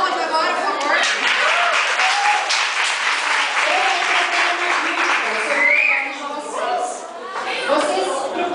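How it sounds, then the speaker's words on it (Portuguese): An audience at a student business administration class presentation bursts into sustained, loud applause, dense clapping that fills the room for several seconds and eases slightly near the end, with some chatter mixed in. "As palmas agora, por favor."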